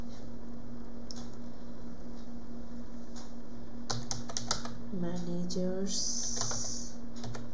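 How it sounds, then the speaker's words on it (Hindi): Keys clatter on a computer keyboard in a quiet room during a Linux file-system lab, with scattered light taps and short quick runs under a steady hum while someone speaks briefly. "ओके, हम लोग टाइप करके देखते हैं"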